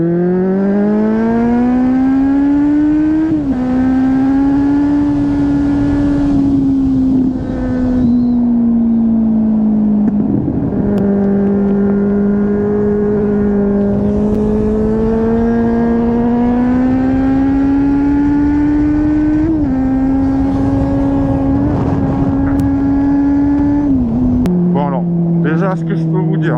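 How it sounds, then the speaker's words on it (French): Onboard engine of a 2016 Kawasaki Z800E motorcycle, ABS version with 95 horsepower, a loud steady drone holding cruising revs with small rises and a gear change near the end, while a rider talks over it. "nous voici à bord de la Kawasaki Z800E de 2016"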